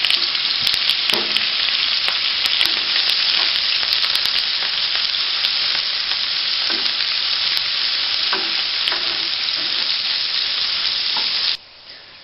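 Oil and 20 grams of butter fry in a pan with a steady, loud sizzle and occasional stirring clatter, then cut off abruptly near the end.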